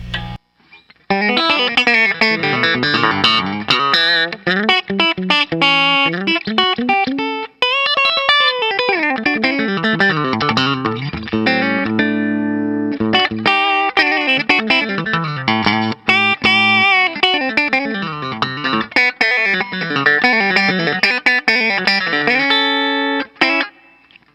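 Distorted electric guitar, a Charvel Guthrie Govan Signature Model on its middle pickup position, playing a busy lead line with bends and fast runs, loud and continuous, with effects and a bit of room reverb, no talking.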